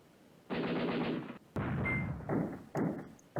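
Artillery and heavy gunfire in the Command Ops 2 war game sound in several loud bursts, each lasting about a second with short gaps, rough and rumbling, alone without talk.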